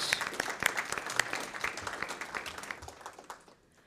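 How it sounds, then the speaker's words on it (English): An audience applauds a panel at a San Antonio ISD Children's Cabinet meeting: a brief burst of dense, fairly faint clapping that tapers off and fades to quiet near the end. "let's give our panel a round of applause"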